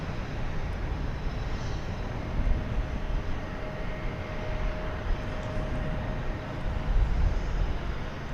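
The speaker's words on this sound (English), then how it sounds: "American Flight 1168 to Denver, an Airbus A321, which is pointing in the right direction to take off." An American Airlines Airbus A321 takes off at Dallas Fort Worth airport, a steady broad jet roar at moderate distance with no talk.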